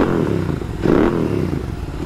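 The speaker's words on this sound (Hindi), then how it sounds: "इसको एक बार रेव करके देखते हैं, आवाज़ सुन लो रेड रूस्टर्स के साथ" A Royal Enfield GT 650 twin fitted with Red Rooster exhausts idles with a deep, throbbing burble, then gets a single quick throttle blip that swells briefly into a louder rev before settling back to a steady idle.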